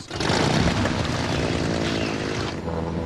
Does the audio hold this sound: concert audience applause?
no